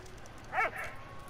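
In the World War I video game Valiant Hearts, a dog gives a single short yip or bark, quiet and brief, over a low ambient game background.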